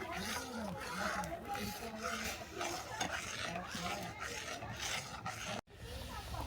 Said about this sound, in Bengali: এটাকে আমি ক্রমাগত নাড়তে থাকবো যতক্ষণ না রাবড়ি হচ্ছে